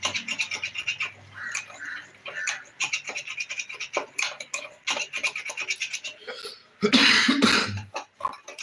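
A sudden harsh cough bursts out once, close and loud, breaking up a stretch of scraping and clinking kitchen sounds.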